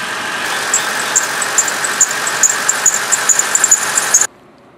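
A car engine runs after a water pump replacement with the fan belt refitted, a steady idle overlaid by a loud, repeating high-pitched squeal that pulses in rapid chirps before the engine cuts off abruptly.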